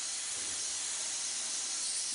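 An airbrush releases a steady, close hiss of compressed air during a pressure test before painting a realistic flame design, continuous and even throughout with no talk.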